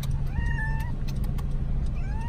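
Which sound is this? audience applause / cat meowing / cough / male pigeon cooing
cat meowing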